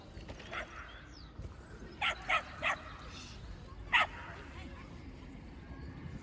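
A dog in a casual outdoor street setting gives a quick run of three short barks, then a single bark about two seconds later, close but moderate, over steady background murmur and noise.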